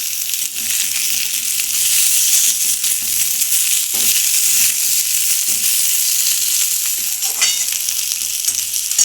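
Eggplant frying in a pan with tomato laid on top, a loud, dense, continuous sizzle close by with faint occasional stirring taps and no speech.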